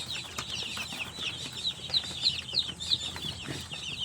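A flock of 16-day-old free-range chicks peep steadily with high, overlapping cheeps and a few soft clucks, close by and without any voices.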